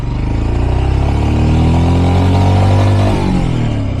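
A 2024 Royal Enfield Scram 411 single-cylinder motorcycle climbs a hill, its engine thumping loudly and close with a rising, labored pitch before easing off near the end.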